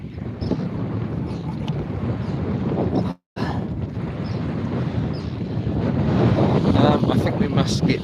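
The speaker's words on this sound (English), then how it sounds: "Wind coming in from the northeast." Wind blows steadily outdoors at a fishing campsite, a constant low rumbling roar buffeting the microphone throughout, with only a brief gap of silence midway.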